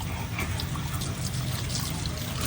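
Water runs and trickles steadily through hair as shampoo is rinsed out, a continuous close splashing flow with no pauses.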